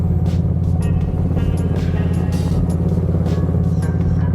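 A 2018 Harley-Davidson Street Glide Special fitted with an S&S 124-inch big bore kit, its engine rumbling loud and steady while riding on the road, with wind noise over the low throb.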